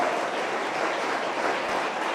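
Congregation applause during a church service in Bogotá, a loud, continuous roar of many people clapping together.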